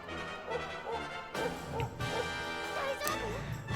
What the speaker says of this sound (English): The dog barked at the Needler